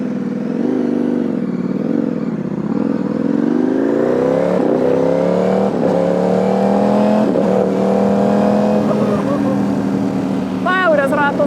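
Loud superbike engine revving up and accelerating, pitch climbing steadily, with wind rush near the mic.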